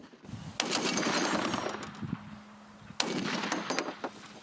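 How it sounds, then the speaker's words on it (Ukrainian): Two bursts of rapid automatic fire from a Browning machine gun, each a rattling string of shots lasting over a second, ring out outdoors with echo trailing after. "кулемет Браунін готовий до бою"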